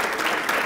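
A room of youth employment program attendees claps for two earlier speakers, a brief, dense burst of applause, close and fairly loud.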